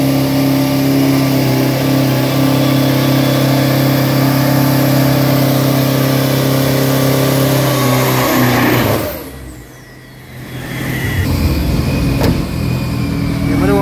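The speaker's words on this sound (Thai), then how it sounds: "เดี๋ยวมาดูครับการคอลี่ไฟรันแรกครับตอนนี้ป๊อป27ขับครับ" Isuzu 3000 Pro race pickups roar loudly through a qualifying run at a circuit, with a steady, droning engine note that drops away briefly, then a revving car sweeps past and the engine noise builds again.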